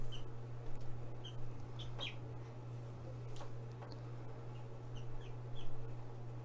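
Young chicks of an American standard breed peep in high, thin chirps, scattered and fairly faint over a steady low hum.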